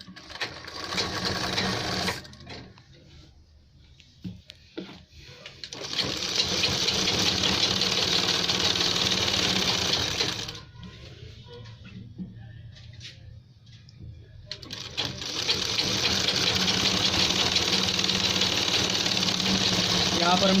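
A sewing machine stitches the fitting seam of a ladies' kurta in three sustained bursts of rapid needle chatter separated by quiet pauses, loud and close.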